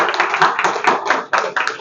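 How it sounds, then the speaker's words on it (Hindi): An audience at a company event gives a burst of loud, uneven clapping in several surging waves, close and crowded, with a brief dip before the clapping swells again. "पहले हमारे सीनियर सर के लिए एक बार जोरदार ताली हो जाए।"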